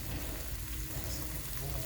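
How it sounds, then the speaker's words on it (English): Red peppers fry in a pan for a Thai red curry, a close, steady sizzle with the rough scrape of stirring running throughout. "we can throw in our red peppers. Give that a big stir."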